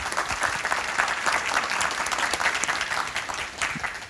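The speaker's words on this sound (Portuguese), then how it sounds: "eu queria uma salva de palmas, parabéns para o presidente Jordão por isso" An audience of property registry officers at a Brazilian conference applauds their president: dense, steady clapping fills the hall from start to finish at an even, moderate loudness, with a brief dip near the end.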